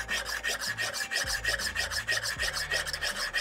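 A knife is sharpened on a whetstone to reestablish its bevels: close, rhythmic scraping strokes repeat back and forth at an even pace with no voices.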